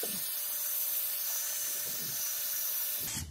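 A homemade power sander whirs steadily at high pitch, a continuous motorized drone with faint scraping texture, close by and alone, cutting off abruptly at the end.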